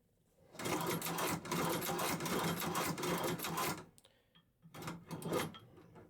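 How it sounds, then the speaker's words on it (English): Leather sewing machine stitching back through holes, a loud rapid mechanical chatter running for about three seconds, pausing, then a shorter burst, with clicks of the handwheel between. "spin my work around and begin stitching"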